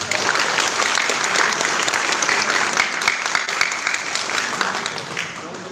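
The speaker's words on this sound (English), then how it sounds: "We all deserve a resounding round of applause." An audience applauds teaching interns at an internship culmination, a dense, sustained wash of clapping that fills the room and holds steady throughout, with voices mixed in.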